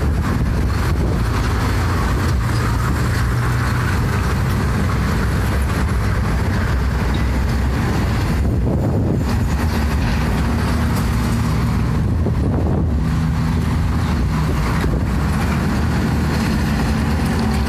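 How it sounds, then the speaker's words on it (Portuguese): Steady road traffic on the BR 101 highway in Brazil, cars and heavy vehicles rolling past in a continuous loud rumble with brief lulls, no talking. "Aqui os carros estão fluindo"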